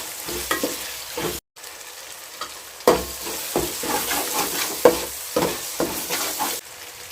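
Ingredients for a country chicken curry sauté in a pan, a continuous sizzle broken by loud, regular scraping stirs of the spoon against the pan, close up with no talking.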